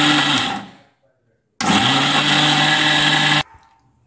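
Kitchen mixer grinder blitzing curry leaves in two loud motor bursts separated by a short silence, the whirring whine starting and cutting off abruptly each time.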